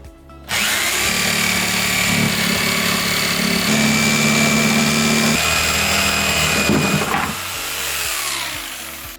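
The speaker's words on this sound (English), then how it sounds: "Using a jigsaw, cut along the line that you traced." A jigsaw cuts a hole for a semi-recessed bathroom sink with a loud, continuous buzzing rasp that holds for several seconds, shifts pitch midway, then stops abruptly and leaves a brief tail.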